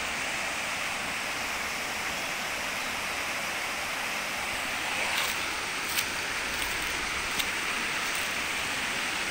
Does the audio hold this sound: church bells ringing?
no